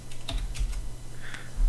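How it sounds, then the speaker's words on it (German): Someone pounds hard on a computer keyboard, producing a close run of sharp, irregular key clacks over a low steady hum, with no voices. "Das hört sich aber auch an, wie du immer auf deine Tastatur drischst."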